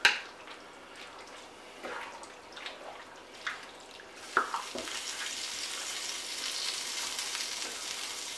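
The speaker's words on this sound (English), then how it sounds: "Give that a little stir. Stir all those nice tomatoes in there." Tomatoes stirred into a pot of bear chili, with soft scraping spoon strokes and a few knocks, then a steady bubbling sizzle that grows louder and stays close.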